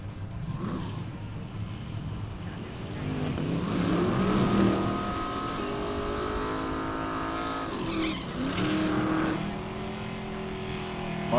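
At a bracket drag race, a 1972 Mustang and a 2013 Challenger with a 6.4 Hemi launch and accelerate down the strip, with rising engine tones, gear changes and brief tire squeal at moderate distance.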